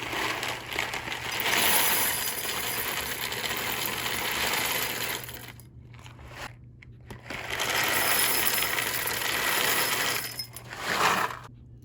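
Coffee beans are measured out for cold brew, rattling and clattering continuously for several seconds, pausing briefly, then rattling again up close.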